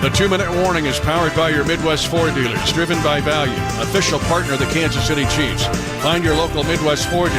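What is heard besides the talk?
No distinct noise like a dog, phone or traffic.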